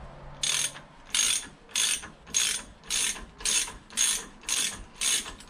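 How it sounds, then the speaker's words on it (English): A ratchet tightens the fork top nut on a Suzuki SV1000 in eight even bursts of quick metallic clicking, close and clear with short pauses between strokes and no talk. "compress the top nut down, and there we go, we can tighten her down."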